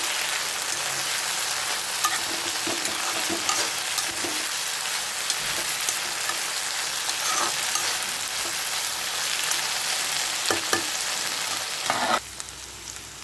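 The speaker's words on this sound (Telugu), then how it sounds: "మధ్యలో ఒకసారి దొండకాయని ఈ విధంగా కలుపుకుంటూ బాగా వేయించుకోవాలి." Steady broadband sizzling of ivy gourd stir-frying in a pan, with occasional scraping clicks of a spatula stirring, continuous and fairly close throughout.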